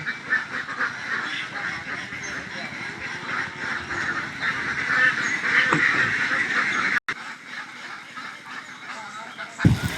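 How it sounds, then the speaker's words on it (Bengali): White ducks at a duck farm quack continuously in a noisy, overlapping chorus close by, with people's voices mixed in. "এই হচ্ছে আমাদের সাদা হাঁস।"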